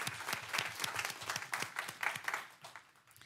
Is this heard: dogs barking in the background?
no